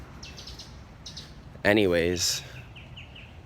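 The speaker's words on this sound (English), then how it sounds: "as you can hear the lovely birds chirping this morning" Faint, distant birds chirp in short high bursts, continuing before and after someone says a single word up close.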